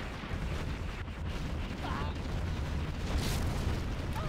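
Rumbling, sustained rocket bomb explosions from a USA Air Force attack in Command & Conquer Generals Zero Hour, dense and continuous with game voices heard over the blasts.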